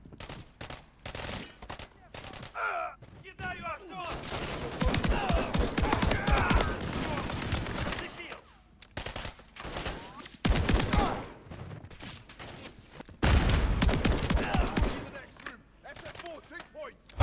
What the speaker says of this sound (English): Bă, ce trage nebunia asta de pistol?